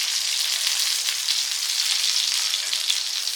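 Whole fish frying in oil over a low flame, a steady close hiss and crackle of sizzling that holds even throughout with no voices.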